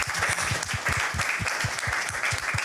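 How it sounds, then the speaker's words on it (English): An audience at a Black and Brown founders' event gives a steady round of applause, with many hands clapping continuously and fairly loudly throughout. "So I just want to give y'all a round of applause real quick for that."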